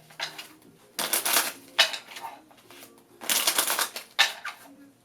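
A deck of cartomancy cards is shuffled by hand in repeated bursts of crisp riffling and slapping, close and distinct, with short quiet gaps between the shuffles.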